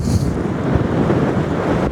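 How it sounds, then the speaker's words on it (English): Strong wind buffets the microphone in low, rumbling gusts, a loud continuous roar with no talking. "So obviously it's so crazy windy."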